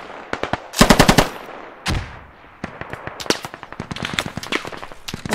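Machine gun fire in the video game Squad during a large-scale firefight, with several short bursts of sharp rapid shots separated by gaps and scattered single cracks, close and punchy.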